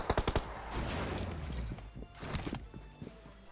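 Gunfire in PUBG Mobile crackles in a quick burst of sharp shots at the start, followed by scattered further shots and rumbling game noise at moderate distance.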